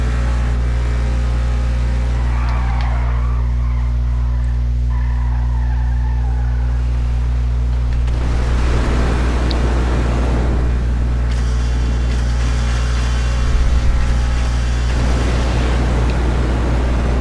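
Declasse Scramjet car in GTA Online at high speed, a constant loud engine drone with heavy low rumble, tire and road noise building in the second half, no talking.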